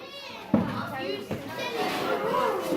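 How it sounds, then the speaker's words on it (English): Youngsters chatter and play while getting their dinner in a school dining room, a busy mix of high voices echoing in a hard-surfaced hall, with a couple of sharp knocks and clatters. "You can probably hear the youngsters in the background getting their dinner."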